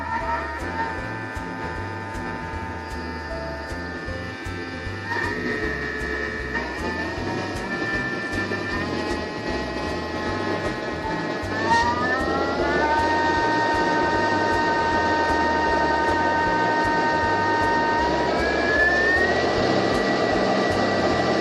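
A kitchen food processor runs steadily at speed, its loud motor whine stepping up in pitch several times and holding a sustained tone over a constant mechanical rumble.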